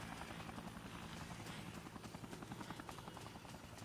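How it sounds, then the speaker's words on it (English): A helicopter in the video game Dead Rising, its rotor thumping in a steady rapid pulse over a constant engine drone, loud and continuous. "Oh, the helicopter."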